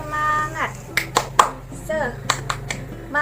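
A primary class does the tepuk semangat clapping chant, with a few sharp separate claps set between a teacher's chanted words in a short rhythmic pattern.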